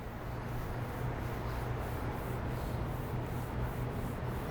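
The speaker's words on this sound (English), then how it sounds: "With that damp cloth, just scrub it, go with the grain" A damp cloth scrubs along the grain of a wooden bar in a steady back-and-forth rubbing rhythm, soft and continuous at close range with no talking.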